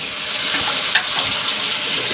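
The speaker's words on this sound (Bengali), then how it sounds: "এই যে গরম পানি দিয়েছি," Hot water poured into rice frying in a pan for pulao, giving a steady, close, loud hiss and sizzle that runs unbroken with no voices.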